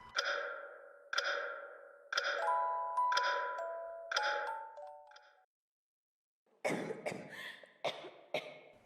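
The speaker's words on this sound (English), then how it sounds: "It's just kind of a coughing loop, but it's voice acting nonetheless." Looped coughing voice acting from the video game Fantasy Maiden's Odd Hideout: a run of regular, evenly spaced coughs with a faint chiming tone underneath, a brief silence, then a rougher cluster of harsher coughs.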